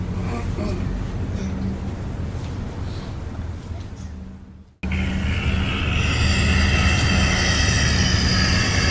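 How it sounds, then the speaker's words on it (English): A Blériot XI aircraft's engine gives a loud, steady mechanical roar throughout, cutting out briefly midway and returning even louder with a bright, droning rasp. "This is the sound of the Bleriot XI."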